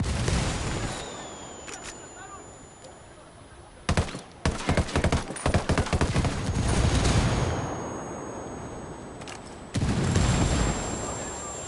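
Gunfire in the Ghost Recon Wildlands video game: bursts of sharp rifle shots in quick clusters, loud and close, separated by quieter stretches of ambient rumble.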